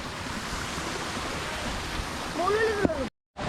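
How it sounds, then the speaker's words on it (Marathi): Cold wind sweeps across a hilltop near a waterfall with a loud, steady rushing roar that buffets the microphone, then cuts out abruptly near the end. "बघा एकदम गार वारा"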